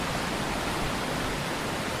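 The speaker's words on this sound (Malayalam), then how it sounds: "നല്ല ശക്തിയായിട്ട് തന്നെ വെള്ളം ഒഴുകുന്നുണ്ട്." A strongly flowing stream rushes in a dense, even hiss of water, loud and continuous with no voices.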